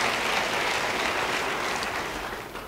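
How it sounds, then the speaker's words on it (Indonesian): A church congregation claps together in a sustained, fairly soft wash of applause that fades slightly toward the end. "Yang percaya beri tepuk tangan bagi dia."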